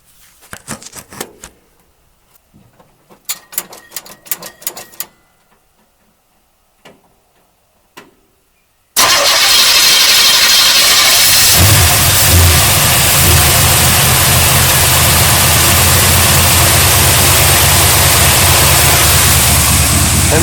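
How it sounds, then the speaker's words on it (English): A few clicks and clunks, then the stone-cold engine of a 1972 GMC Sierra Grande pickup truck cranks and roars to life loudly and keeps running at a steady, rough idle. "we can connect the battery and then start this engine right up"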